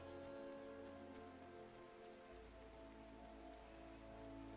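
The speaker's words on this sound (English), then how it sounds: "It's just raining the entire time I was doing that" Rainfall in the online role-playing game Final Fantasy XIV, a soft, even patter of drops spread across the scene, faint and continuous beneath sustained musical tones.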